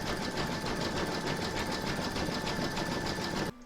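An embroidery sewing machine runs a steady, fast needle rhythm, loud and continuous, stitching a sunflower coaster, then stops abruptly just before the end.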